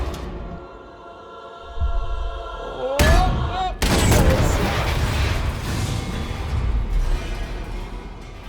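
Gunfire in the video game Detroit: Become Human comes as a few sharp, loud bursts in the middle, then a dense noisy stretch of shots and impacts, with game voices around it.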